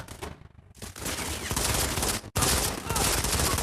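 Rapid gunfire from the mobile shooter Modern Combat 5: Blackout, dense bursts that fill the clip, broken by a brief gap near the start and a sharp cutout just past two seconds.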